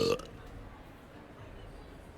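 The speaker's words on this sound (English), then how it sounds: "Oh, that's us just burping." A short, loud burp from a character in the Hogwarts Legacy video game, a single belch right at the start that fades into quiet background sound.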